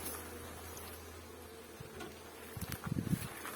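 Faint buzzing of honey bees being shaken off hive frames, rising toward the end, with a brief burst of louder humming and a few soft knocks, over a quiet background hiss.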